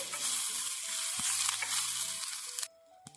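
Chopped curry leaves and seasonings being stirred and fried in a pan as a tempering for leafy-greens dal, a loud continuous sizzle with spoon scrapes that cuts off abruptly, leaving faint clinks.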